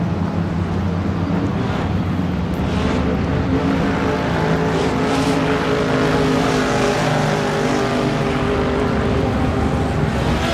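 GT race cars lapping the Nürburgring in the sim racing game Assetto Corsa during a virtual 24-hour endurance event, a steady, loud engine drone with layered overlapping exhausts, no speech.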